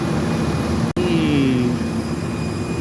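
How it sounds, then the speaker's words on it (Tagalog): Passenger airplane flying overhead at night, a steady broad engine roar with a faint tonal whine that sweeps gently downward, continuous throughout with no talking. "Ang aeroplano."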